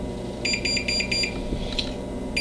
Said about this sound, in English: there's our buzzer for the first 20 minutes